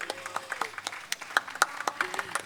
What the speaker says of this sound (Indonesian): Bisa kasih tepuk tangan dulu teman-teman.